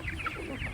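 Pastured chickens clucking inside a movable field shelter on a farm, a steady close chorus of overlapping clucks with no talk.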